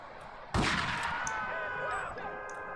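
A single sharp gunshot rings out in GTA 3, a bright crack followed by a decaying ringing tail, with faint ambient game sounds around it.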